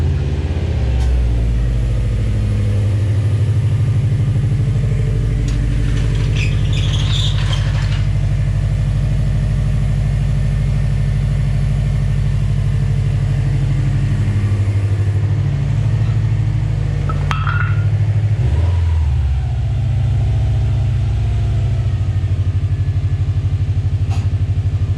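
A 2019 Subaru STI Limited's engine rumbles loud and close while driving, holding a steady low drone with a few shifts in pitch as the revs change, and nobody speaks.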